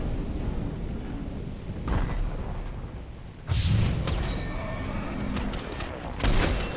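Gunfire in a shootout in the video game Mass Effect 3, with bursts of shots and booms swelling around the two-second mark and again near three and a half and six seconds over a steady combat rumble.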